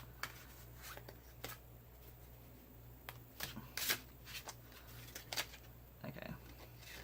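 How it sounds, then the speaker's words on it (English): A transparent tarot deck is shuffled by hand, giving soft repeated riffling and slapping bursts, close and quiet, with brief pauses between them. "these ones I would definitely shuffle until they fall"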